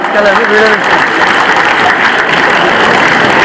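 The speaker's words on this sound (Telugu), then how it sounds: "మీరందరూ ఒక్కసారి రోటరీ క్లబ్ కోసం చప్పట్లు కొట్టాల్సిందిగా కోరుతా ఉన్నా" Audience applause for the Rotary Club at a public gathering: a dense, steady wash of clapping fills the room for several seconds, with a voice audible briefly at the start.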